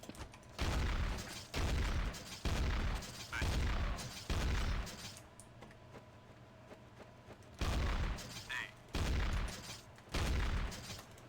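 Video game gunfire comes in repeated loud bursts with booming thuds, separated by short lulls, and one stretch of quieter background noise in the middle.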